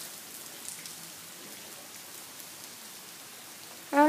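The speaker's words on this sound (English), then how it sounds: "It is raining. We all love the rain." Rain falling outside during a thunderstorm, a soft, steady patter and hiss heard from a distance, with a voice cutting in right at the end.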